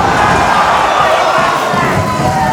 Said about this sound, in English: The crowd are absolutely blown away